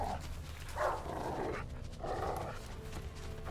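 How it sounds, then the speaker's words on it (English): A dog in the Witcher 3 game tracks a scent, giving a few soft, muffled barks and whines in short bursts over a low ambient rumble. "Follow the doggo's noises."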